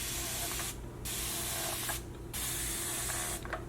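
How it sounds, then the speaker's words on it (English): A very fine mist spray bottle spritzes water onto thick hair in several quick close hissing bursts separated by short pauses. "I'm misting his hair with water. The spray bottle that I'm using is a very fine mist spray bottle"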